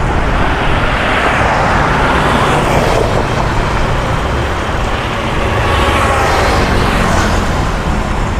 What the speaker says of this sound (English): We also have a motorbike coming along.